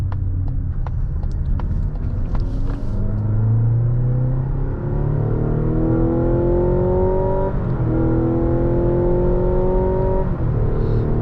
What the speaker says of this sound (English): look how quiet and smooth it is in EV mode